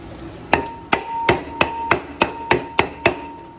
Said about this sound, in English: I'm going to hit it lightly.